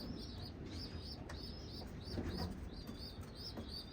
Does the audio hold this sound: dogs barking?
no